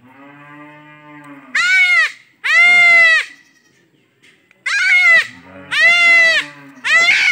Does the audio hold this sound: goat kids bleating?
yes